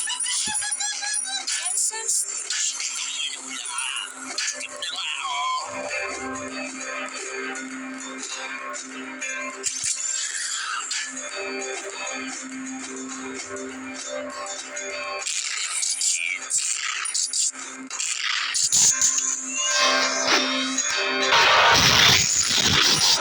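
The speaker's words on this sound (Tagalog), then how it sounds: "Paparinig ko na lang sa inyo guys yung tunog ng gameplay." Busy train video game sounds play continuously, with layered electronic effects, clanks and crashes, growing louder and denser toward the end.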